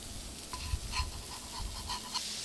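Asparagus cooking on a Blackstone griddle, a soft steady sizzle with light scraping and stirring touches, a few short clinks near the middle, close and moderately quiet, no talking.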